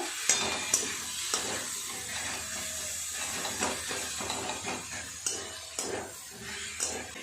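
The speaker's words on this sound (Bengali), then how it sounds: "টমেটো কুচি। খুব ভালো করে সব কিছু এইভাবে একটু নেড়েচেড়ে মিশিয়ে নেব।" Chopped tomato with ginger-garlic paste is stirred in a pan, giving a soft, continuous sizzle broken by regular clinks and scrapes of a spoon against metal. The sound is close and fairly quiet, with no talk.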